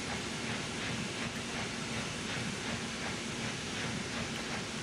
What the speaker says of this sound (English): Why is she chuffing?